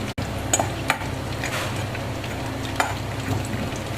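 Peanuts fry in hot oil in a kadai for pulihora tempering, a steady close hiss of sizzling with a few sharp pops and clicks scattered through it.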